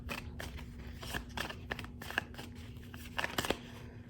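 Tarot cards being shuffled by hand, a steady run of crisp riffling clicks and flutters for several seconds under a faint constant hum, with no one talking.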